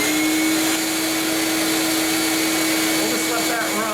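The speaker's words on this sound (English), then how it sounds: "Okay, so let's start with the shop vac." A shop vac runs on power from a Westinghouse WGen9500DF dual-fuel generator, a loud, steady, close motor whine with a constant tone and no break throughout.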